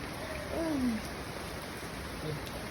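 Rain falling steadily outdoors, a soft, even hiss throughout, with a voice briefly heard over it.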